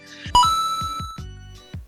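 A notification bell sound effect chimes in a quick series of bright, ringing dings, each struck and left to decay, loud and close with no voices.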